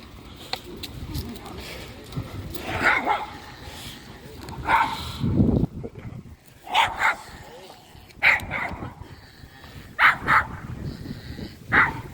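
Several dogs bark in bursts at a renovated primary school, sharp loud barks recurring every second or two amid voices talking and calling nearby.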